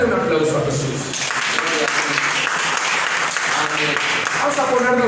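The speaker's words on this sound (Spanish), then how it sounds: "Dale un aplauso a Jesús." A church congregation claps for Jesus, a loud sustained applause with voices shouting and talking over it, continuing strongly to the end.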